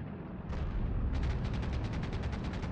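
Tank cannon fire in the WW2 online game Heroes & Generals, with a T-34-85 nearby: a dense, loud booming blast rising into sustained rumbling reverberation, with a second heavy onset about a second later, no talk.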